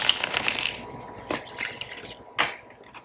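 Tarot cards riffle and flutter in a shuffle, followed by a few short crisp snaps and flicks of card stock, close up and fairly quiet.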